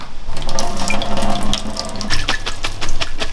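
Water from cooked noodles pours and splashes steadily into a sink, a continuous close rushing with gurgling and scattered drips as it drains.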